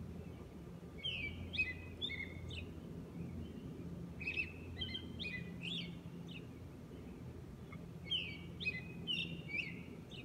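Birds sing in repeated bright phrases at a moderate distance, a few overlapping songs rising and pausing over a quiet low background hum.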